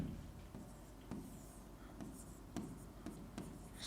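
A teacher writes on a board during a lesson, making faint, scratchy strokes at an uneven pace. The strokes are heard close but soft, over a low background hiss.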